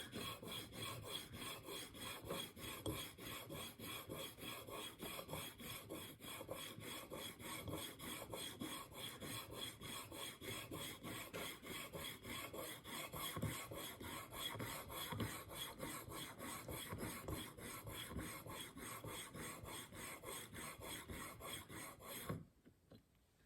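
Cutthroat single bevel broadhead drawn back and forth across a finer sharpening stone, a steady rhythmic scraping rasp repeated evenly for over twenty seconds before stopping abruptly, with no talk.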